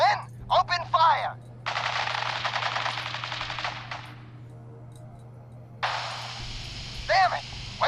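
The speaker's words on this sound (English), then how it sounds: "Men, open fire." Rapid automatic gunfire from a Fallout 4 firefight crackles in sustained loud bursts, broken by short sharp shots and brief shouted voices between volleys.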